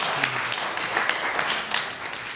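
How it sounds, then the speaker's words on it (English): An audience claps together in steady, dense applause for a couple of seconds, with no talk over it. "give him a round of applause"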